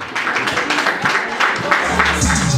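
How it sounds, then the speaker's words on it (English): Wedding guests clapping for the couple at a ceremony in Brussels, a scattered, fairly close patter of applause that grows busier toward the end, with a voice briefly audible beneath it. "Please somebody clap for this beautiful couple and the family."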